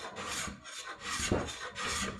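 A hand plane takes thin shavings off a big rough piece of walnut, making about three soft, close swishing strokes in quick succession.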